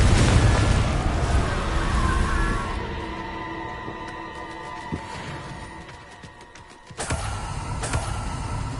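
A Confringo fire spell in Hogwarts Legacy lands as a loud, sharp blast near the end. Before it comes a fading rumble with tonal game ambience underneath.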